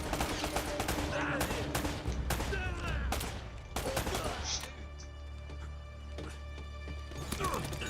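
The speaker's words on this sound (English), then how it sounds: "Where am I being shot from?" Dense gunfire in Uncharted: Drake's Fortune, sharp shots and bursts cracking repeatedly throughout, loud and close, with a steady low rumble underneath.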